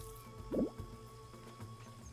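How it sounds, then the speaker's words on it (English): Watering flowers in the video game Hello Kitty Island Adventure, a soft splashy gurgle of water lasting a moment, then a faint dribble, quiet against a low background hum. "Let me just water these."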